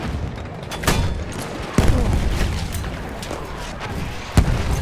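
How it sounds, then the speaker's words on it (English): Mortar rounds and gunfire in the video game Battlefield 1 thud and crack across a noisy battlefield, with three heavier booms standing out over a continuous roar of distant shooting. "I got killed by a mortar"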